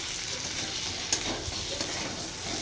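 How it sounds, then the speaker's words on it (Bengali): Egg and potato frying with spices in a pan for a home-style Bengali egg curry, steady sizzling under brief stirring scrapes and one sharp utensil tap, no voices. "ডিম আলু সব রকম মশলা দিয়ে কষানো হচ্ছে।"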